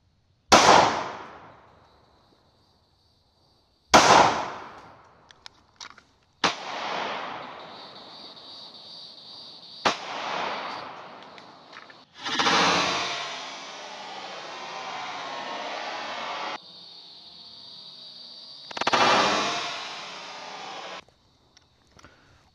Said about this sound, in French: on va commencer avec deux cartouches de 9 mm, une en Full Metal Jacket et une de chez Hornady, une Critical Defense